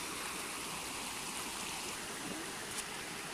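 A stream flows steadily past a large rock near a bridge, making a continuous, close rushing wash of water with no voices.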